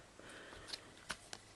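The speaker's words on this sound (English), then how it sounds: "And shuffle the cards" A deck of fairy-themed oracle cards is shuffled by hand, a few quick, soft riffling flicks close by in a quiet room.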